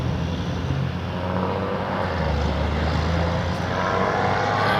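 Air Canada Jazz aircraft lining up on runway 23 at Toronto Pearson Airport, a steady propeller and engine drone with low humming tones, continuous and fairly loud, slowly building toward the end with no talk.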